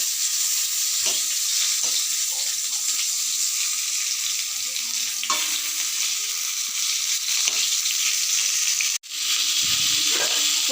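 Pointed gourd (potol) frying in oil gives a continuous, even sizzle, with faint utensil taps and a brief clunk near the end, no voices.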